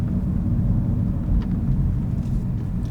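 A manual car cruises in third gear at about 2500 RPM, giving a steady, close, low engine rumble with a constant drone and no talk.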